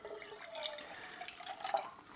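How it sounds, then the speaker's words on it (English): A small amount of water swishes and trickles inside an emptied coconut milk can as it is rinsed, a soft, steady wet rattle at close range with no talk. "I'm just gonna rinse out the can with a little bit of water."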